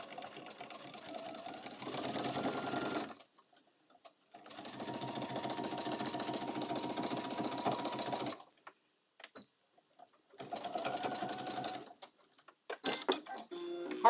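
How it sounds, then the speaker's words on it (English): A sewing machine with a walking foot stitches through many thick fabric layers in a bag, a close rapid mechanical whirr running in three long bursts separated by pauses, with small clicks and handling noises between. "now I'm sewing through a lot of layers now, which is why you need that good old walking foot on there"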